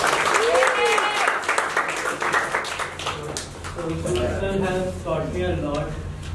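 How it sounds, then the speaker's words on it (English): A class claps at a farewell gathering, continuous applause running beneath loud talking and voices throughout, with the clapping partly masked by the speech. "Please give me a round of applause."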